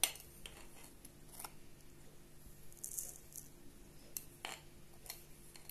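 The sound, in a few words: spooning sugar into a jar of chopped onions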